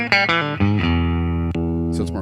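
Fender Baja 60's Telecaster electric guitar with its pickups switched out of phase, a few quick picked notes followed by a sustained ringing chord that decays gently, with a brief pick scrape near the end.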